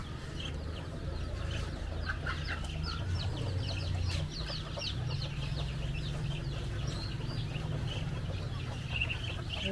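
Small chickens clucking and chirping in a busy outdoor family setting, with a steady low hum running underneath and brief bird-like calls scattered throughout.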